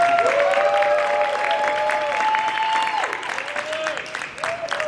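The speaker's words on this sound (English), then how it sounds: "Applause." A crowd gives steady applause at a St. John Bosco High School spring concert as the group takes the floor, the clapping heard a little way off while an announcer's amplified voice talks over it.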